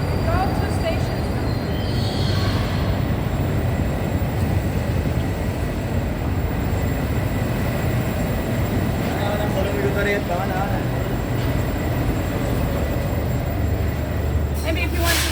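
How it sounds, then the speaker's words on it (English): A Moscow metro train rumbles steadily from on board, with a constant roar of rails, occasional wheel squeal and faint metallic clatter, while people talk nearby. "And we'll hop on this train and go to stations."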